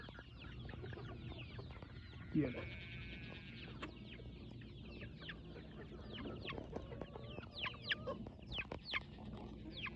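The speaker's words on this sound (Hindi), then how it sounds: "ये ले मेरी तरफ आ रहा है मुर्गा" A rooster clucks on a California farm in the evening, giving scattered, fairly quiet calls among soft barnyard noises, with a brief human voice near the start.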